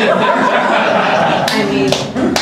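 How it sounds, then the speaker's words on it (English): Applause from a comedy club audience in New York, with light laughter and chuckles mixed in, a steady crowd roar that continues throughout while a voice on stage speaks over it. "No, stop the clapping."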